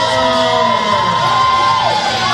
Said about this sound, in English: This crowd absolutely off their feet for Vince Valor retaining.